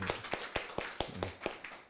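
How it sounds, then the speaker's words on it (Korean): A church congregation claps in encouragement during a Sunday service, producing sparse, fairly soft claps in a loose, steady rhythm of about eight beats, heard alone without talk. "격려의 박수 이렇게 해주면 어때요?"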